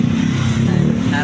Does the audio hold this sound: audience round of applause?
no